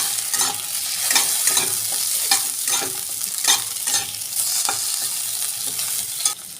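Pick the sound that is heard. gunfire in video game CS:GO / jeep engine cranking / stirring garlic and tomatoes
stirring garlic and tomatoes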